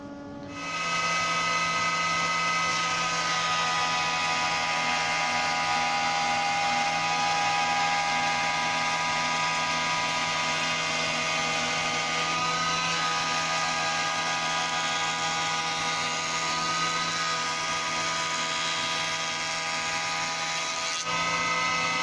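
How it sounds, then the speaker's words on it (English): A planer runs steadily as wooden boards for porch canopy brackets are squared, producing a sustained, loud mechanical whine with strong tonal hum that stays even throughout, with no voices. "run them over the planer just so I've got a nice square board"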